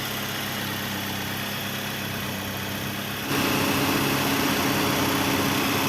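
A Nissan X-Trail engine idles steadily while its radiator fan spins at high speed, making a constant whirring drone that steps up louder partway through and holds there.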